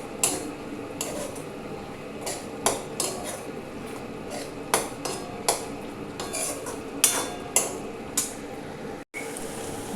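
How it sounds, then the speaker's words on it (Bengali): Ridge gourd and poppy seed paste being fried dry in a pan, with a spatula repeatedly scraping and clinking against the metal in an irregular rhythm, close and fairly loud with a steady low sizzle beneath. "এবারে ভালো করে মাখিয়ে একবারে শুকনো শুকনো করে এটাকে ভেজে নিচ্ছি।"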